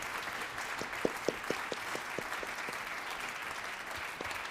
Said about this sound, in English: let's clap even louder for him